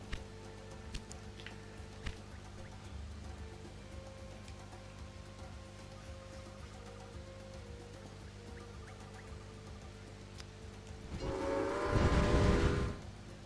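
Trains run across the map in the Railway Empire game on PS4: a quiet rolling rumble and rail clatter under steady hum, then a louder horn or whistle swells near the end.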